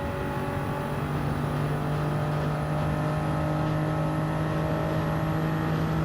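A Nissan Skyline race car in Gran Turismo 7 at Monza drones at a steady high engine pitch, continuous and fairly loud, with no clear shift break and no voices.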